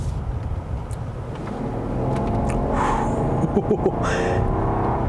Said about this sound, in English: So that was only like literally a quarter throttle there